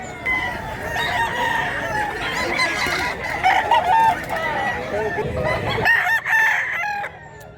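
A rooster crows loudly nearby amid clucking chickens and farmyard bustle, with several other crows overlapping.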